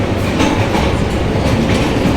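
Train carriage rolling on rails toward Tarapith after passing Bolpur, with a steady, loud rumble and rhythmic clickety-clack of wheels over rail joints, heard up close from inside the car without any talking.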